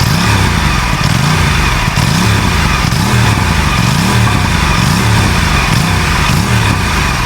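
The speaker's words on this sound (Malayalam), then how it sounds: "സ്റ്റോക്ക് എക്സോസ്റ്റ് ഇത് കണ്ട, ആ ഗ്രണ്ട് ഇട്ടില്ലേ, ആ ഡീപ്പ് ഗ്രണ്ടാണ് കേട്ടോ." An Aprilia Tuono 457 twin-cylinder motorcycle with its stock under-belly exhaust and 270° firing order is revved hard and repeatedly, each rise and fall of the engine close and loud with a deep growl.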